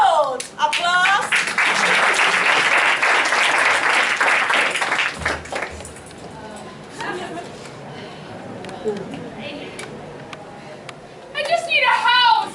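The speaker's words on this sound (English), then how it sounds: "Applause." Audience applause at a stage comedy, a dense burst of clapping lasting about five seconds, then quieter moments with talk, a few scattered claps and laughter-like voices near the end.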